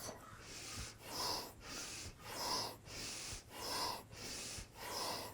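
Deep rhythmic breaths during a kundalini yoga session, each long airy inhale and exhale rising and falling in a steady cycle of about five breaths, close and soft with no talking.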